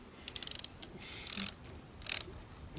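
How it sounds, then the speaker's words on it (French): A 19 mm wrench loosens a nut on a Bouyer tiller with quick bursts of ratcheting clicks, close and fairly quiet, separated by short pauses and heard without speech. "Clé de 19. Dévisser uniquement."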